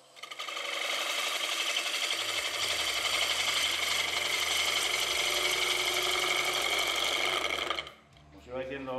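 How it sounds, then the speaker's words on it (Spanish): A wood lathe turning a wooden plate, with the tool passing over a section not yet cut round: a steady loud buzzing, vibrating drone with rapid rattling that runs continuously before stopping abruptly, followed by a brief voice. "ese ruido que se oye es por la única parte ya que quede que no está cilindrada la madera."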